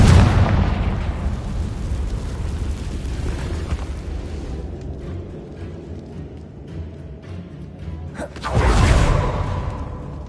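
A Confringo spell explosion in the Hogwarts Legacy video game: a loud, close blast at the start that fades into a long rumbling tail, then a second whooshing burst near the end.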